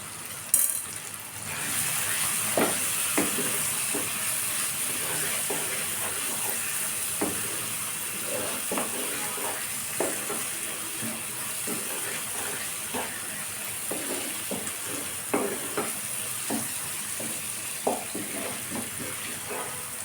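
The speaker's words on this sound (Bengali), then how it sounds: "আমি এখানে অল্প অল্প পানি দিয়ে কষিয়ে নিব" Chickpeas with potato and garam masala sizzling and hissing in a pan as splashes of water are added, with steady frying hiss and frequent short crackles and pops, close and alone without talk.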